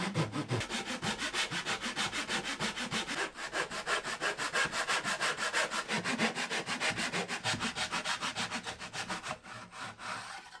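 A hand saw cuts wood in a homemade mitre box screwed to a workbench, its steady back-and-forth strokes loud and close in an even rhythm before slowing and stopping near the end.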